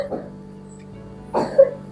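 A woman coughs in two brief bursts, a soft one near the start and a stronger, closer one later, with a low steady hum underneath.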